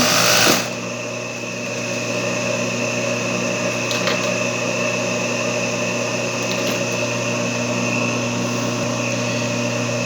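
A sewing machine runs steadily and loudly while stitching the finishing edge of a Richelieu embroidered cushion, a continuous even motor hum with fast needle chatter, starting after a brief moment.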